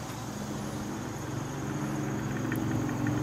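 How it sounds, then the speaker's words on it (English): Ring gear and pinion spinning, picked up through chassis-mounted microphones: a steady, low mechanical drone with a faint whine over a constant hum, no voices. "Spinning a ring gear there, on a pinion or whatever,"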